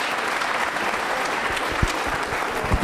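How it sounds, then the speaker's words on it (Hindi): A crowd of students and cadets at an Independence Day school quiz show breaks into vigorous applause, a thick, steady roar of clapping with a few sharper claps poking through near the end. "तालियां बजाइए जोरों से।"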